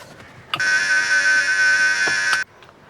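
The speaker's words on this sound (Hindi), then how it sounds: "अब यहाँ घर की घंटी बज रही, कोई खोल नहीं रहा है।" A doorbell rings with one long, steady electronic buzz lasting about two seconds, loud and close, with faint clicks before and after.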